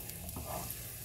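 Garlic frying in a pan for chilli chicken, a steady low sizzle with faint stirring scrapes, close and continuous, no voices.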